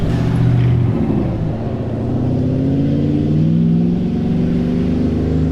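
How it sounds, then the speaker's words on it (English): Cadillac CTS-V engine revving close by, a loud, steady low growl with rising and falling pitch held throughout, with no talk over it. "I gotta rev my car up"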